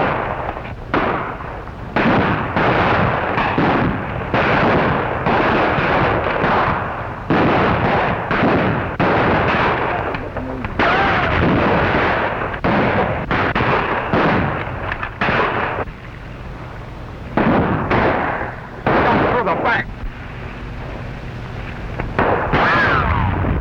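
Gunfire in a 1935 Marines battle film, a long barrage of loud, sharp shots and bursts fired in quick irregular succession, some overlapping, with brief gaps and a few heavier blasts.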